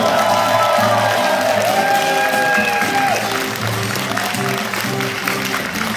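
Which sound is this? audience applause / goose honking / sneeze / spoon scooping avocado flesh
audience applause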